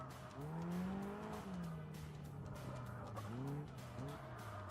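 A Caterham race car drifting at Snetterton circuit, its engine droning with rising and falling pitch as the tyres squeal and skid through a sustained slide, heard from a moderate distance.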